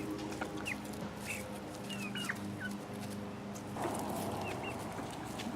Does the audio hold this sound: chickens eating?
yes